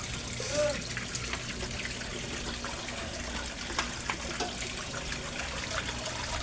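Air pump running in a koi pond with a submersible pump, water bubbling and trickling steadily throughout at moderate level, close by, with a few small splashes and no talking.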